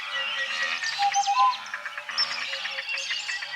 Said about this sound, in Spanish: Tenemos a los pájaros que producen gorjeos, chasquidos, silbidos y trinos.